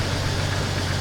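Jeep Wrangler TJ with a 4-liter straight six and about 185,000 miles running, a steady close low rumble with an even, continuous drone.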